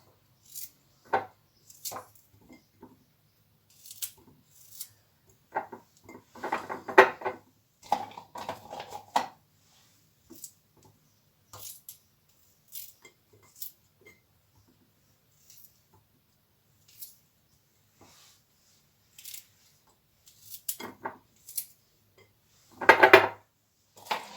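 Garlic cloves cut into pieces with a knife and dropped into glass jars for a fish-pepper pickle: sparse light knocks and clinks, with louder clattering bursts around the middle and near the end, no talking.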